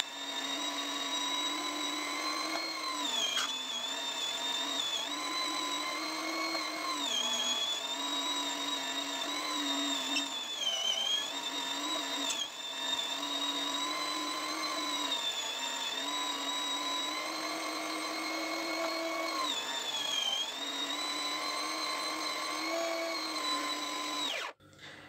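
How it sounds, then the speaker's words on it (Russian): Electric meat grinder mincing pork fat, a steady high-pitched motor whine running continuously with slight dips in pitch as the fat feeds through, close and loud, stopping abruptly at the end. "Перекрутила я сало на мясорубку."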